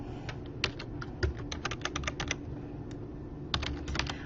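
Quick, uneven keystrokes on a computer keyboard while a password is entered, close and crisp, with a short pause midway before a final few taps.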